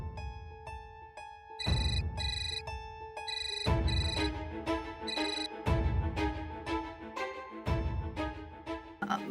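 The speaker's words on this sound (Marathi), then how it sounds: "प्लीज फोन उचला प्लीज." A telephone ringtone plays loudly and steadily, its repeating electronic melody with bright tonal bursts continuing through the whole stretch without any talking.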